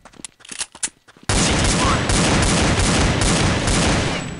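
Sustained automatic gunfire in Counter-Strike: Condition Zero during a bomb defusal match on the Nuke map, a few scattered shots followed by a dense, loud, continuous burst of rapid fire.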